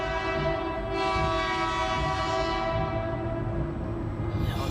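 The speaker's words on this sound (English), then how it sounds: "to see this train run over her" A train rolls past with a sustained, loud horn blast held over a steady rumble of wheels, the horn cutting off near the end as the rolling noise carries on.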